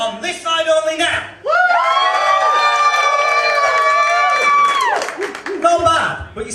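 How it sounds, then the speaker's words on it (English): Audience on one side of a room at a live comedy mind-reading show breaks into loud cheering, whooping and applause, sustained for about three and a half seconds between stretches of talk. "And then you go wild with applause for them on this side only now."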